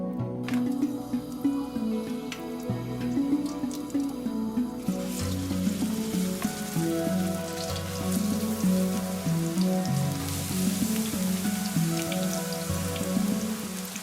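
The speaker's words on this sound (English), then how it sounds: "Fry the eggplants and take them out properly and place in a large bowl." Eggplant slices frying in hot sunflower oil in a large pan, a steady close crackle and dense spitting sizzle that carries on without a break, with no voices.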